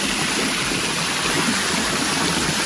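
Water pours steadily into a stone hot tub, a dense, continuous splashing rush close by with no other sounds.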